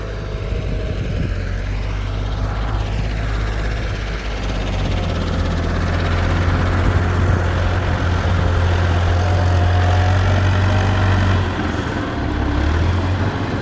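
A tractor engine keeps running without pause while soil is loaded into its trolley, a loud steady low rumble with a droning hum that shifts slightly in pitch near the end, and no talk.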